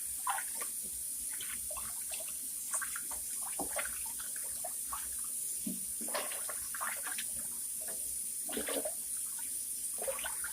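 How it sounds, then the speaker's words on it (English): Clean water runs steadily as mustard greens are rinsed in a kitchen, with splashing and swishing of the leaves over a constant flowing hiss. "And putting them over here to rinse in some clean water."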